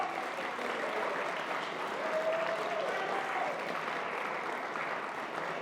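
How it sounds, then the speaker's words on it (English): Audience applause fills a high school biomedical engineering STEM showcase, a steady but fairly faint wash of clapping that holds through the whole stretch, with a brief murmur of voices underneath. "Let's give them another round of applause."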